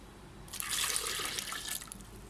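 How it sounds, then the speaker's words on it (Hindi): A glass of water is poured into a blended mixture of plums and tamarind for a summer drink, a brief splashing rush that swells quickly and tapers off over about two seconds. "तो मैंने 1 गिलास पानी डाल के इसमें डाल दिया।"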